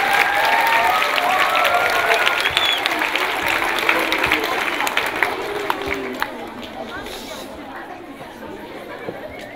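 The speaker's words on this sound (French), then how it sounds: "on peut les applaudir" A school audience at a student sketch performance applauds steadily, a dense wash of clapping mixed with crowd chatter that holds at a fairly loud level and eases off slightly toward the end.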